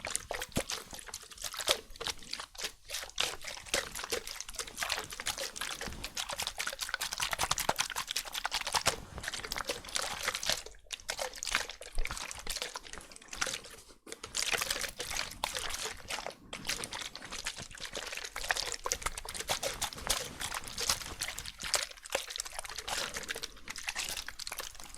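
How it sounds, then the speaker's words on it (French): Liquid pours and trickles with crackling bubbles in a close ASMR setting, a continuous fizzing wash with small pops and dribbles that runs unbroken for the whole stretch. "un son de liquide. Quel liquide? Des bulles, ouais, exactement"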